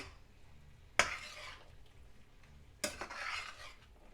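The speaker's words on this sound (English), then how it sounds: "keep stirring, letting all the flavors meld together" Bean taco filling with coconut aminos and hot sauce stirred in a pan, giving two short scraping strokes about two seconds apart over a faint background.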